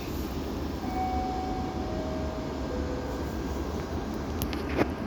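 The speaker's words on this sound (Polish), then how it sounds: "A tam już kolejny pociąg jedzie." A train running through Zawiercie station in Poland, a steady loud rumble of wheels on track with a faint high squeal from creaking wagons and a brief clank near the end.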